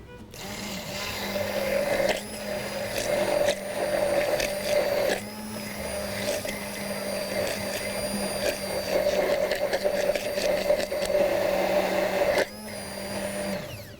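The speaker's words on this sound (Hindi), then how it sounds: "अदरवाइज़ तो मैं सारी चीज़ें डालती हूँ एक साथ और ब्लेंड कर देती हूँ" An electric blender whirs steadily while blending mayonnaise ingredients, a loud sustained motor drone that briefly dips and restarts a few times, with no talk over it.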